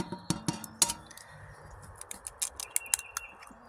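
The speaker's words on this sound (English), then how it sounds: "Remember this gargantuan egg? Yeah, let's crack it open and see what's inside." A giant double-yolk egg cracked open beside a hot wood-fired stove, giving a series of sharp, close clicks and taps of shell against a hard edge, with small clinks scattered between them.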